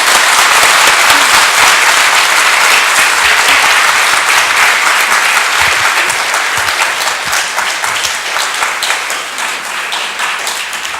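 A church congregation breaks into loud, sustained applause to welcome a visiting pastor at a revival meeting, dense clapping filling the hall for the whole stretch and easing only slightly toward the end.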